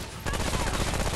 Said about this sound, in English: Okay, so yeah, I was full on rapid fire.